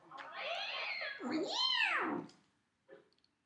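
A cat meows twice in long, rising-and-falling cries close by and fairly quiet, followed by a brief faint sound after a short pause.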